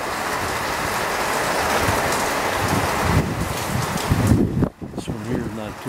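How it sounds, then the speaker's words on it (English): Heavy rain pours steadily during a storm at a damaged property in Cameron Park, California, a dense continuous wash with wind-like roar that swells louder toward the end. "The rain's really coming down now."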